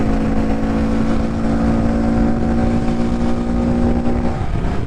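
Honda Grom motorcycle carrying a passenger at speed, a loud steady engine drone with constant pitch and wind rush, easing off near the end, no voices.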